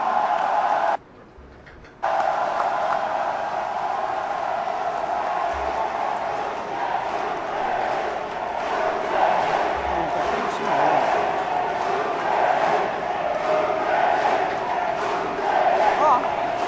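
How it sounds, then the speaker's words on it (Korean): A large crowd at a Korean Democratic Party primary rally cheers and applauds continuously as a candidate takes the stage, loud and dense, swelling slightly over time after a brief dip near the start. "뜨거운 박수로 맞아주십시오"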